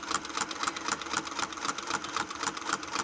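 Sewing machine stitching slowly around a curved line guided by a ruler template, with a short stitch length, giving a fast, even needle chatter that runs close and steady throughout.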